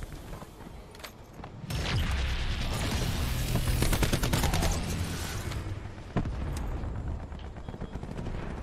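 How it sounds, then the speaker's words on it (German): Dense bursts of automatic gunfire and explosions aimed at a robot in Call of Duty Black Ops 4, loud and sustained with sharp individual shots punctuating the barrage. "Roboter wird beschossen."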